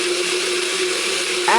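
A blender runs on low speed while kiwi fruit pieces go into the jar, giving a steady close whir with a brief change in pitch near the end.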